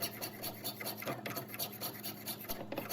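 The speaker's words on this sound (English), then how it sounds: "With it now clamped down, you can start working with the spoke shave." Spokeshave taking shavings off a clamped wooden spoon handle: close, irregular scraping and rasping strokes repeat side to side in a continuous, textured run.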